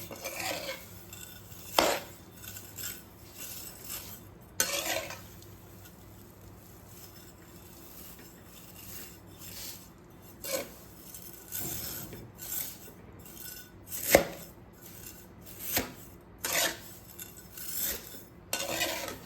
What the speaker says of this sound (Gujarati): મોટી હોય તો એને આ રીતે સબીથા વડે થોડી તોડી લેવાની